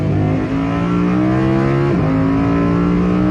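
An Audi R8 Coupe 5.2 V10 570 Performance RWD driving at speed, its engine and exhaust a loud, continuous droning roar with a brief dip and quick recovery partway through, as if during a gear change.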